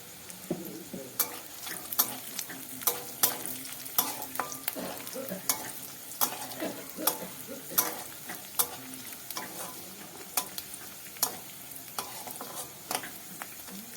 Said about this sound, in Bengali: এবার আমরা বাদামটাকে দিয়ে একটু নাড়াচাড়া করে নেব